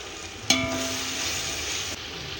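Mint leaves hit hot oil with onions in a pan and set off a sudden sharp crackle, which settles into an even sizzle that tapers off slightly near the end.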